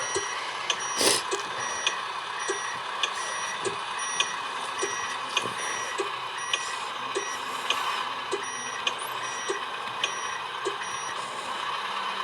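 A truck reverses with a steady, evenly spaced electronic beep repeating over a constant engine idle, moderately close, with no talk over it.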